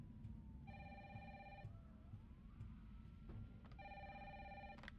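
Telephone ringing in the video game Resident Evil 3, two electronic ring bursts of rapid trilled tones over a low background hum, fairly faint and steady with a gap between them.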